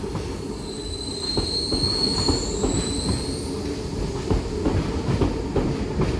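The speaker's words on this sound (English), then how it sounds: "We have a Tangara arriving into platform 2." A Sydney Tangara electric train rolls into Hornsby station with a constant rumble, wheel clicks, and high squealing brakes as it arrives at the platform.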